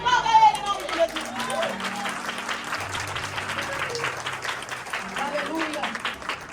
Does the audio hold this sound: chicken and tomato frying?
no